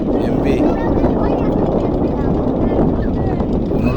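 A boat engine drones loud and steady throughout, a dense low rumble with wind buffeting the microphone.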